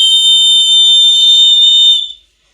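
One long, piercing blast from a compact 3D-printed portable whistle, loud and steady for about two seconds before cutting off abruptly into silence, heard alone and up close.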